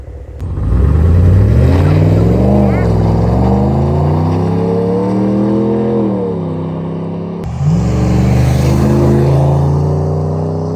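A 2026 Ram truck fitted with a Borla muffler revs hard through its exhaust, rising and falling loud and close, then a second throaty rev after a brief drop.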